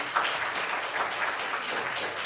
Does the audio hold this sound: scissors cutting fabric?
no